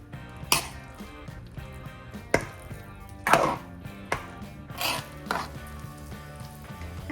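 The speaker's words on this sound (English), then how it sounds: "Right now I'm going to add in half of the prepared coconut sauce into this. Give it a good mix." A spoon stirs coconut sauce into nearly cooked sticky rice for Thai mango sticky rice, making several sharp knocks and scrapes against the pot at uneven intervals over soft background music.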